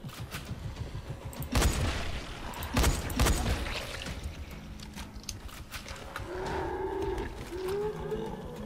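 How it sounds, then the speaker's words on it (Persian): Low, groaning zombie growls rise and moan in Dying Light, with a couple of heavy thuds or booms and continuous background noise. "چرا صدای زامبی میاد خودش نیست؟"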